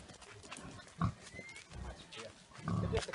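A pig on a farm grunts and squeals in short, close bursts at a low level, with a louder squeal near the start and a deeper run of grunts at the end.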